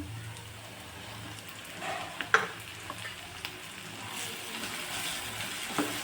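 Tomatoes hit onions already frying in a pan and set off a soft, steady sizzle with a few light taps and stirring scrapes, the hiss growing slightly toward the end; nobody talks.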